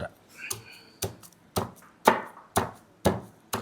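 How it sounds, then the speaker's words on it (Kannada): Native onions and garlic being crushed in a bowl, sharp regular thumps about twice a second, close and loud with quiet pauses between blows. "ಎಲ್ಲ ನಾಟಿ ಈರುಳ್ಳಿ ಎಲ್ಲ ಆದಮೇಲೆ ಮತ್ತು ಬೆಳ್ಳುಳ್ಳಿ ಹೋಳಿ ಈ ಥರ ಮಾಡಿ ಇಟ್ಕೊಂಡಿದ್ದು ಇದನ್ನು ಜಜ್ಕೋತೀವಿ"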